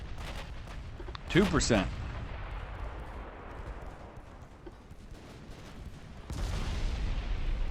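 A heavy cruiser's turret guns fire in the naval game Ultimate Admiral: Dreadnoughts: one loud, booming salvo near the start, then a long rumbling decay, with a muffled voice speaking briefly and ongoing battle ambience.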